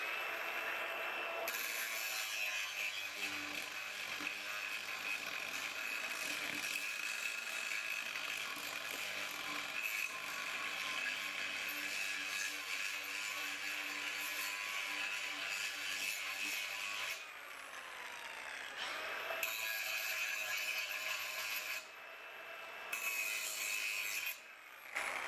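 An angle grinder fitted with a new hard rock disc grinds mill scale off steel plate, a loud, continuous abrasive roar with a steady metallic whine, sustained for most of the stretch with a couple of brief dips near the end.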